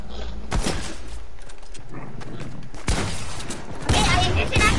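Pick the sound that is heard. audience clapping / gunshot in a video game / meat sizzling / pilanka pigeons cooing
gunshot in a video game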